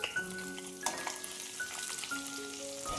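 Stuffed okra (bharli bhindi) goes into hot oil with cumin seeds and sizzles steadily, a close, continuous frying crackle with a few brighter pops and some faint tonal sounds in the background.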